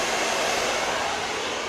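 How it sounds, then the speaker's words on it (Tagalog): A laptop's cooling blower runs with a steady, loud broadband whoosh, close by and unchanging throughout. "kung may maririnig kayo na ingay, yun yung blower kasi nag-laptop ko"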